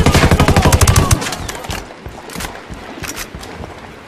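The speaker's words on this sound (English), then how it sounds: "Opening fire on these fuckers." Rapid automatic gunfire in the PC shooter Ghost Recon Wildlands: a dense, loud burst of shots for about a second, then scattered single shots and short bursts that fade a little into the background.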